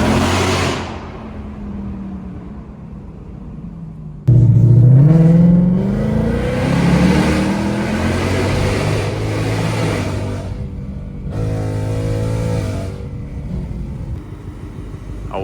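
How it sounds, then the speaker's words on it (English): Ford Mustang GT running on E85 fuel idles with a low rumble, then roars into a loud, hard acceleration with rising, shifting engine pitch and a brief lift-off before pulling again. "just wanted to give y'all a little insight on how the car sounded"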